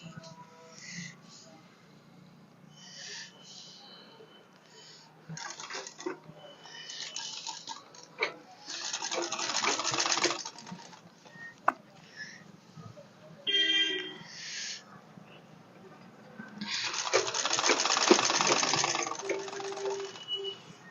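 An imported sewing machine stitches the hem of jeans in bursts of fast whirring, some short and one longer, separated by pauses with handling clicks. Someone talks between and over the stitching runs.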